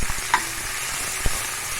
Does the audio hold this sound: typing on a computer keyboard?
no